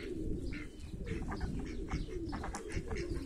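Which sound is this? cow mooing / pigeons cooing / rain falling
pigeons cooing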